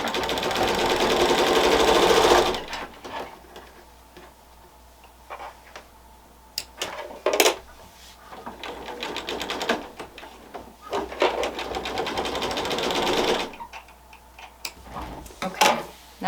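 Sewing machine stitching a quarter-inch quilt seam in bursts of rapid mechanical stitching, loud at the start and again near the end, with quieter handling and clicks in between and no talking.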